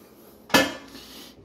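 A single sharp metallic clatter of pots and pans being moved in a kitchen of a rented house in Orlando, close and brief, then fading into quiet.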